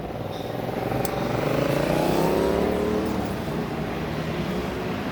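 A Ferrari drives past on Danforth, a Toronto city street, its engine rising to a loud swell then fading as it passes close by, over steady street and wind noise.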